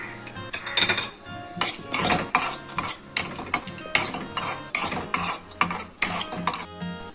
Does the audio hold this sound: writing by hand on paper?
no